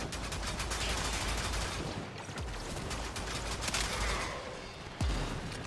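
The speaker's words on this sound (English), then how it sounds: "someone's shooting bloody..." Dense gunfire crackles nonstop through a firefight in the video game Warframe, with rapid overlapping shots, a busy noisy background and a few heavier thumps near the end.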